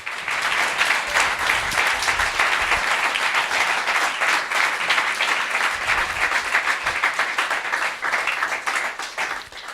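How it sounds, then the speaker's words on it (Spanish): A church congregation bursts into sustained, energetic applause for the Lord during a Spanish-language sermon, thick rapid clapping from many hands that holds steady throughout, with no talking over it. "Dale un aplauso al Señor"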